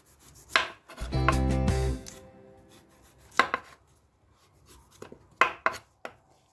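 A knife cuts peeled beetroot on a cutting board in a series of crisp chops, with several sharp, close cuts spread out over several seconds and a longer, denser scraping stretch near the start.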